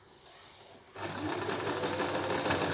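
A sewing machine stitches the corner of a fabric face mask, starting after about a second of quiet and then running as a steady, close, even whir to the end.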